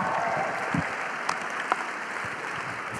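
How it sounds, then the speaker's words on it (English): Audience applause at a charity gala, steady clapping filling the room for the whole stretch with a few louder whoops and claps standing out. "Another round of applause for Rachael."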